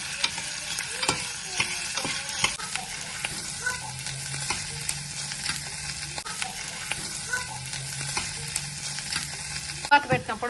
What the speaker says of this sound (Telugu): కొంచెం వేగినాక కాకరకాయ ముక్కలు వేసుకొని కాసేపు ఆయిల్లో వేయించుకుందాం